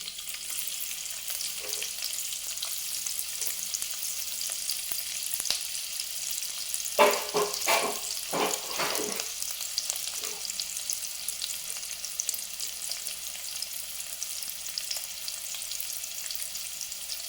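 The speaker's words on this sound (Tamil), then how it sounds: "கொஞ்சோண்டு தாளிக்க நம்ம வெங்காயம் போட்டுக்கலாம்" Onions dropped into a teaspoon of hot oil for tempering while Tamil-style soya gravy is cooked, giving a steady soft sizzle with a brief burst of crackling and stirring midway, with no talking.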